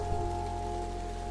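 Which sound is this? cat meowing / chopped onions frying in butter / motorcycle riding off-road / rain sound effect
rain sound effect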